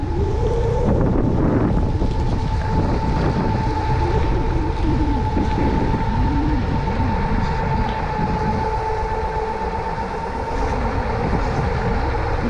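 Steady rumbling wind buffets the microphone during an E300 electric scooter ride around a lake, a constant close roar with a faint whine running through it.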